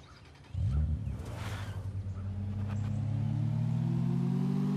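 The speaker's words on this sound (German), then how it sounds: "Wow, ist die Karre schnell." Car in the zombie survival video game State of Decay starting up and accelerating fast, its engine note climbing steadily and growing louder over a few seconds, with no talk.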